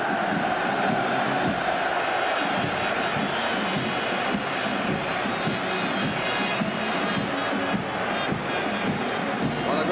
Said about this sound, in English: Cheer from the West Ham fans behind that tunnel